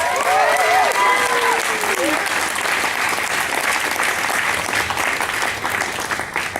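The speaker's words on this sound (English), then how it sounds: "let's give a warm round of applause to all of our guests of honor" A large crowd at an opening ceremony gives a warm round of applause for guests of honor, loud, dense clapping throughout, with brief voices and a whistle-like cheer early on.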